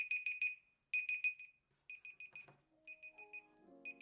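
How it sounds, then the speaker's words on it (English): An alarm clock rings on a Google Pixel 4 XL phone in quick repeated beep groups, clear and close, fading down in volume partway through while a soft musical tone enters. "This also works with alarm clocks and timers."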